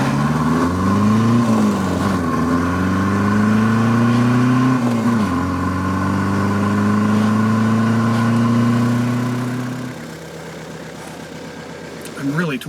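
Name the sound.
old race car driving on test drive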